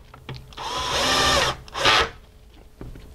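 Power drill driving screws into the cover plate of an RV power converter, heard as two loud whirring bursts, one long and one short, with faint handling clicks around them and no talk.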